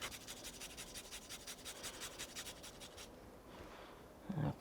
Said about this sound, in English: I'm gonna use a rasp style grater. That just turns the garlic into a nice puree